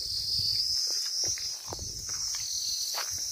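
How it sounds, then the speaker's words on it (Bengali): Crickets and other insects chirp in a continuous high, shrill drone on a hillside around a house near Sittong, Darjeeling, steady and fairly faint, with a few soft footsteps or rustles underneath. "এই পাহাড়ের এই ঝিঝি পোকার ডাক,"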